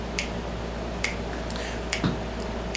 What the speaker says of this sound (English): So go ahead and do this snapping with me.